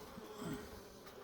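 Soft, close buzzing of honey bees around a hive as winter approaches, a faint continuous hum with a slightly louder swell near the middle, no voices.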